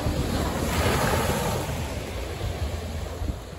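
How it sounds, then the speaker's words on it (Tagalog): Surf rolls in steadily on Calugcog Beach in Tanauan, Leyte, a broad continuous wash of breaking waves with wind buffeting the microphone throughout, and no voices. "Welcome to the beach."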